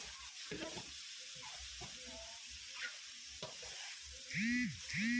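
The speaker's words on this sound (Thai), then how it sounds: "แล้วก็ผัดใบกะเพรานะคะ อันนี้นุ่นก็จะปิดไฟแล้วนะคะนุ่นก็จะผัด" Holy basil leaves and meatballs are stir-fried in a pan with the heat just turned off, giving repeated spatula scrapes over a soft sizzle, with a brief warbling tone sounding twice near the end.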